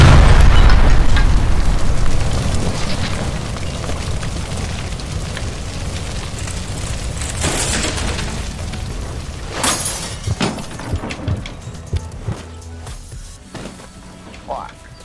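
In the LA Noire video game, a shot gas line sets off a loud explosion that opens with a heavy boom and decays into crackling, rumbling debris and scattered bursts. Speech runs over it.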